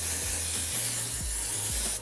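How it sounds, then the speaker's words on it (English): Hair spray hisses onto freshly washed wavy, curly hair as a texturizing spray for volume. One steady, close, continuous spray hiss lasts about two seconds, then cuts off. "you can kind of use it as like a texturizing spray as well"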